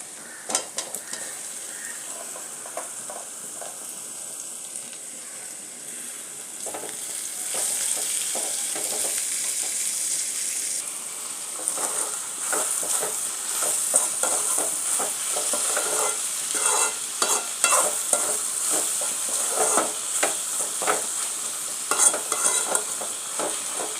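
Tomatoes sizzling in a hot pan while being stirred for egg gravy, a constant frying hiss with scraping and stirring clatter growing busier over time.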